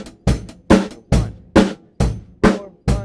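Drum kit playing the chorus groove of a song, with seven evenly spaced, loud snare-and-cymbal hits over a steady pulse, close and alone with no talking.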